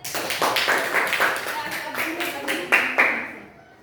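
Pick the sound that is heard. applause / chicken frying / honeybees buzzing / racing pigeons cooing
applause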